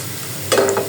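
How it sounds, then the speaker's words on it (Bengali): Sweets bubbling in hot oil, a soft hiss that swells into a brighter crackling sizzle for a brief moment. "এখন আমি এগুলো পুরো বাদামি রং করে ভাজবো।"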